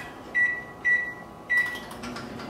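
A microwave oven heating a Banquet meat loaf dinner hums steadily while three loud, close electronic beeps sound, followed by clicks and rattling from handling the door and tray.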